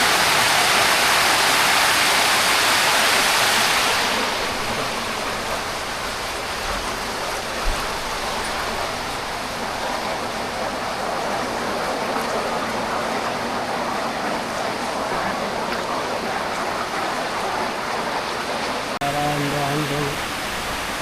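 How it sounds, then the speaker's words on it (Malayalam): Rushing water at Areeckal waterfall near Piravom makes a dense, continuous roar, loud and close throughout, with a voice speaking briefly near the end. "ആ വെള്ളത്തിൻ്റെ സൗണ്ട് അടിപൊളിയായിട്ട് കേൾക്കാം."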